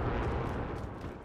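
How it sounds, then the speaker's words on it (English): Cluster strike explosions in a video game's Plunder match make a low, continuous rumbling roar. The blasts blur together into a steady, moderately faint wash of booms with no talking. "Allied cluster strike inbound."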